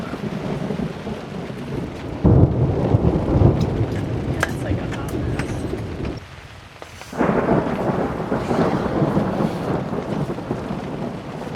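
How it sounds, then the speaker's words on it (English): Steady heavy rain with rolling thunder rumbling throughout a campsite in Yellow River State Forest, Iowa, briefly dipping then swelling again, while people talk nearby. "But man, there's a lot of thunder."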